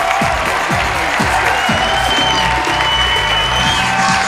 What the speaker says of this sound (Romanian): Aplauze pentru băieții voștri!